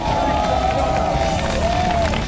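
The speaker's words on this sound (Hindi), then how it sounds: "वहां मौजूद लोगों ने उसकी पायलट स्वेतलाना कापानीना का तालियों से स्वागत किया" Crowd of spectators at an aviation festival in Russia cheering and clapping for pilot Svetlana Kapanina after her landing, a dense, steady roar of applause and voices with a whistling tone running through it.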